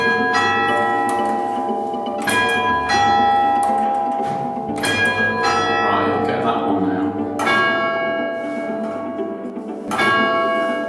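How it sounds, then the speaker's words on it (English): Great church bells ring in a tower overhead, loud and near, striking repeatedly with long shimmering overtones that overlap as each stroke decays. "These eventually led to the ringing of the bells in the tower above us."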